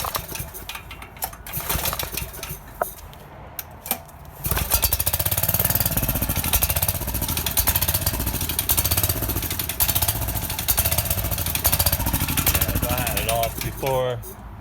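A small go-kart engine sputters and then catches after a pull start, settling into a loud, close, rattling idle that runs steadily, with someone talking over it.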